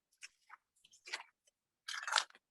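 Crunchy baked plant-based treats crunching close up in a home kitchen, a few sharp bites and chews followed by a longer, louder burst of crisp crunching, with no talking.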